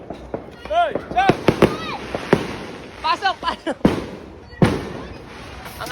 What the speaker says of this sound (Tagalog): inumpisahan agad ang fireworks display ng kapitbahay